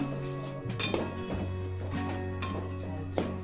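A spoon clinks and scrapes against a metal pot while shev ladoo mixture is stirred, giving repeated close metallic taps over a steady tonal hum.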